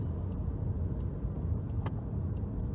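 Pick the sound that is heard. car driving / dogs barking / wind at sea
car driving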